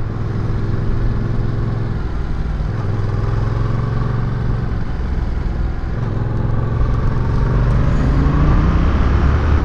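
A Yamaha XSR 700 motorcycle engine pulls hard under acceleration, a loud, steady mid-pitched drone with rising tones, heard close up with wind rush and no talk.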